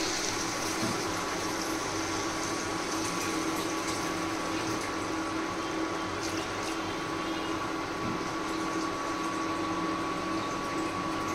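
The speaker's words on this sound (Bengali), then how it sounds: "তো আমরা 4 কাপ জল দিয়ে এটাকে কভার করে রাখবো। জল দিয়ে দিচ্ছি।" Water is poured over rice in a pot for an ilish pulao: a continuous, even pouring and splashing rush, near and moderately quiet, with no talking.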